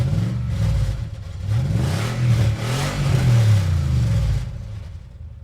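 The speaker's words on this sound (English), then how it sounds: "hear the engine of the old Mustang revving up." An old Ford Mustang engine revs up and down in loud, rising and falling surges, close by, with no voices.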